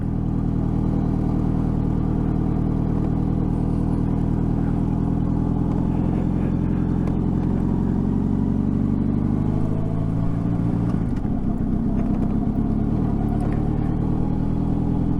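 A vehicle engine drones steadily and close while being ridden, with a low rumbling tone that dips and wavers briefly partway through as it bogs down slightly.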